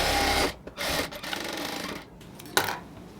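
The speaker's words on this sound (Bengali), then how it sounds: "আবার একটা ডাবল সেলাই দিয়ে নিব" A sewing machine runs in bursts while double-stitching a salwar pant seam, its rapid mechanical chatter starting and pausing several times, close and steady between stops.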